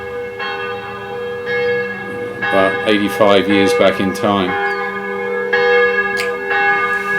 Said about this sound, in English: This is what you have to do to escape these bells.